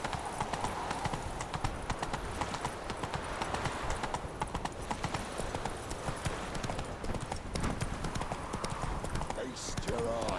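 Hooves of Roach, the horse in The Witcher 3: Hearts of Stone, clip-clop in a brisk, steady rhythm throughout, close and clear, with voices talking over them.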